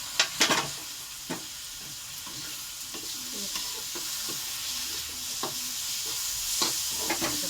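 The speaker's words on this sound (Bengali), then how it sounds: "পেঁয়াজের সঙ্গে আমি চিংড়ি মাছ দিয়ে ভালো করে ভাজবো" Prawns fry with onion in a pan, a steady close sizzle broken by occasional spatula scrapes and taps as the mixture is stirred, with no voices.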